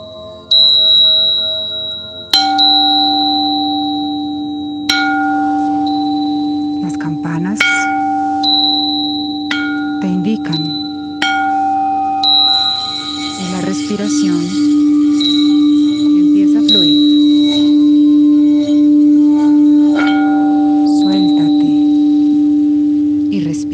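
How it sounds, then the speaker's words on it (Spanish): Sustained meditation bell tones ring out one after another during a guided meditation, bright pure strikes that overlap and linger over a steady low drone, with no talking. "Escucha las campanas"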